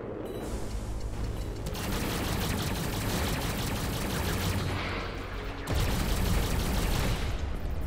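Missiles launching in the space-combat game EVERSPACE 2, a dense continuous barrage of rapid blasts and whooshes that surges louder in two waves, with no talking over it.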